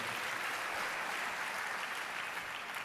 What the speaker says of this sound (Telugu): గట్టిగా చప్పట్లు కొట్టి దేవుని మహిమపరచండి